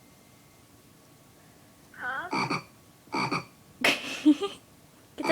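A toy plays a frog croaking sound, several short raspy croaks in separate bursts, close and clear in a quiet room, with a brief voice at one point.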